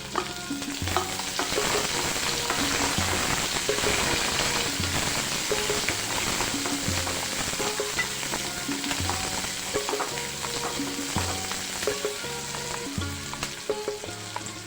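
Cashew pieces and coarsely chopped onions fry in a pan for a paneer tikka masala, giving a steady, loud sizzle under repeated rhythmic stirring scrapes, with no voices.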